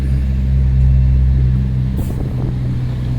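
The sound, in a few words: city bus route 84 driving past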